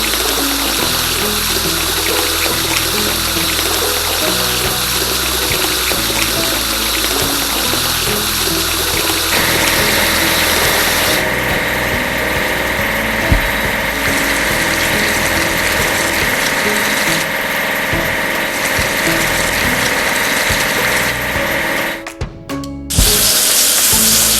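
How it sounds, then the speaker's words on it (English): A cement mixer runs continuously with a loud, steady engine drone and churning rumble while water splashes and pours over it, the sound shifting slightly partway through before a brief clatter near the end. "Now we need to wash it clean. Cement mixer."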